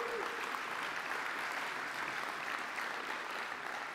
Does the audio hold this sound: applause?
yes